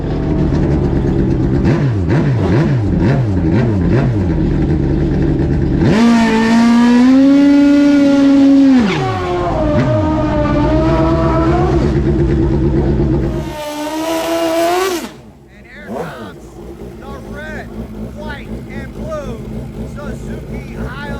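At a drag strip, motorcycles including a Suzuki Hayabusa and an old-school Kawasaki KZ rev hard for a qualifying run, engines climbing and falling in loud, rising whines, with an announcer talking over parts.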